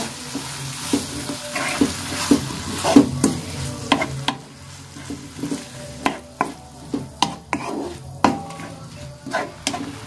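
Anchovies, tofu and papaya leaves are stir-fried in a pan after a little water is added, giving a steady soft sizzle broken by repeated scraping and clacking stirring strokes, with no talking.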